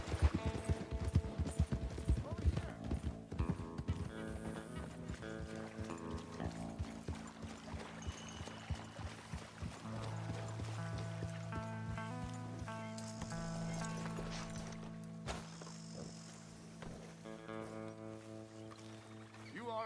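Horse hooves clip-clopping during riding in the video game Red Dead Redemption 2, a steady rhythmic patter running beneath layered game music and ambience throughout.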